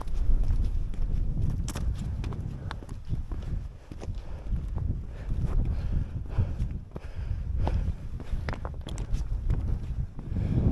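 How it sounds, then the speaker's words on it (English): Strong gusting wind buffets the microphone on an exposed Lake District mountain peak near Crag Hill, a constant loud roar with rises and dips and no other sounds. "That wind ain't half picked up now that I've come up and on top of a peak"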